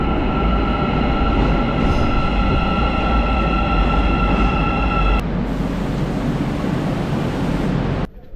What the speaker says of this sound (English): shot of a train coming in.